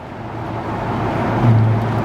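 A 2019 Chevrolet Camaro ZL1's supercharged V8 growls at a low idle and then rises into a deep rev toward the end, loud and close, with no talking.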